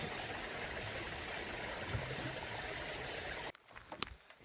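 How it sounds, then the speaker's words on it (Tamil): Water from a spring trickling on a forest mountain trail, a steady close rushing hiss that cuts off near the end, leaving a few faint taps and rustles. "இந்த மாதிரி கொஞ்சம் இடத்துல தண்ணி வந்துடுது"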